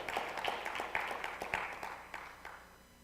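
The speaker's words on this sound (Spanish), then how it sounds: "Dame un aplauso al Señor." Applause from a church congregation rolls through a large room, a dense patter of clapping that gradually thins and quiets over a few seconds.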